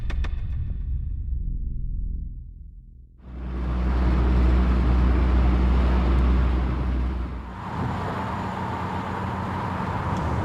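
An old Mercedes-Benz 190E 2.3-16 drives near the Nürburgring, a low engine hum fading after the first seconds, then a loud steady rumble of engine and road noise as it gets under way, easing briefly before carrying on.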